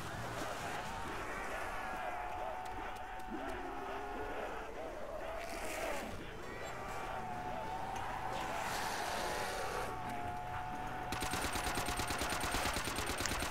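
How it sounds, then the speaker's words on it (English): Gunfire from a World at War custom zombies map set in a subway, shots popping under a steady drone of game ambience and music, with someone talking over it. "I'm trying to just shoot these guys so I kill them as slowly as possible"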